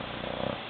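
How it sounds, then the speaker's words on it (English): Cat purring in a short, soft, steady rumble close by, heard on its own in a quiet indoor room. "No purring."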